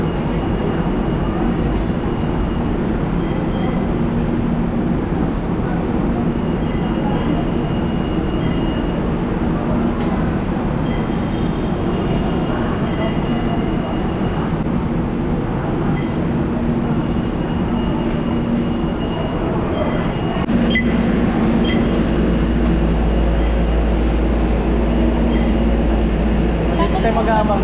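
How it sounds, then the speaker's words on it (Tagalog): A train rumbles into a station platform with a continuous low roar and rattle that builds toward the end, and people talk over the noise. "Ayan yung tren oh."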